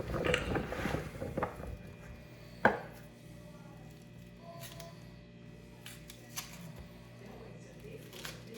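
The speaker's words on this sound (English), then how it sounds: "You could chop up the onions a little finer if you wanted to" A knife chops onions on a board for a prime rib roasting base: a quick run of close, crisp cuts, then one sharp knock and occasional light taps, with a faint voice in the background.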